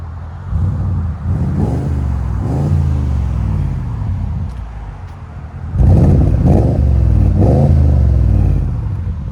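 A 2017 Porsche Cayenne Turbo with a 4.8L V8 and Fabspeed axle-back exhaust revs loudly and close by, in two bursts of repeated throttle blips with deep rumbling swells and a brief lull between them.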